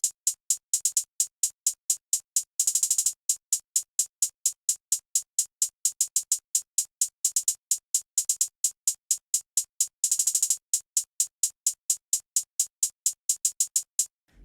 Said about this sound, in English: So I started with this go-to hi-hat